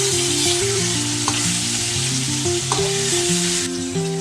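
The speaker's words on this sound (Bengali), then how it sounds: "এক পাশ ভাজা আর এক পাশ আমি ভেজে নিচ্ছি" Hilsa fish pieces sizzle loudly in hot oil in a pan, a constant close frying hiss with a few brief clinks of stirring, no voices.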